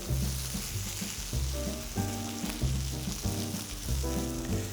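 Broth frying in a hot pan, a steady loud sizzle with rhythmic bursts of stirring and scraping, no voices.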